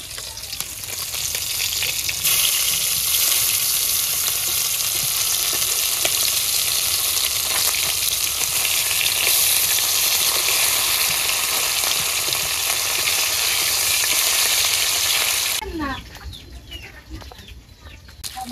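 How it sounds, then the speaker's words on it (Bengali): Fish frying in hot oil in a pan during village home cooking, a loud continuous close sizzle for most of the stretch that stops abruptly, followed by quieter clatter and light handling sounds. "মাছ এক পাশ ভাজা হয়ে গেছে, আর এক পাশ আমি ভাজতে নেই, উল্টে দেই।"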